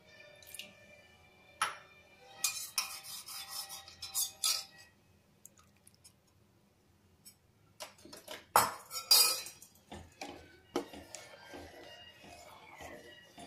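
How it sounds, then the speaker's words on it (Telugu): Spoon stirring custard powder into sweetened milk for fruit salad in a pot, intermittent scraping and clinking bursts with quiet gaps, no speech. "ఇది చిక్కబడేంత వరకు కలుపుకుంటూ ఉన్నాము."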